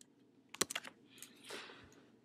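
Brief burst of keystrokes on a computer keyboard while entering a spreadsheet formula, a quick cluster of close, crisp clicks followed by a softer rustle in an otherwise quiet room.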